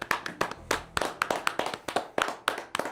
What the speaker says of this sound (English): Should we give a brief round of applause?